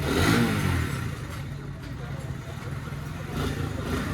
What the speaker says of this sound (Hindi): गाड़ी का साउंड टेस्ट हो रहा है, साउंड टेस्टिंग।